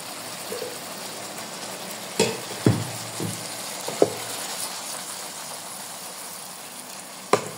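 Pointed gourd frying in koi fish oil, a soft steady sizzle with a few louder spits and stirring clatters scattered through, close by and without talk.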